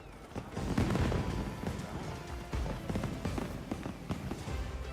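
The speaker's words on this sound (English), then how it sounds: "Ooh, fireworks." Fireworks in the Monster Hunter Wilds video game burst in a dense, continuous barrage of crackling pops and booms over a steady noisy bed, loud and sustained throughout.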